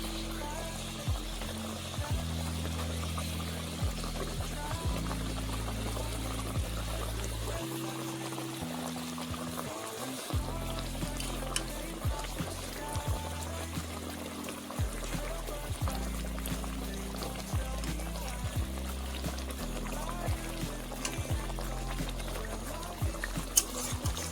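Pieces of mirik fish going one by one into a simmering Bengali fish curry broth, heard as continuous close liquid bubbling and pouring sounds with a low hum running throughout.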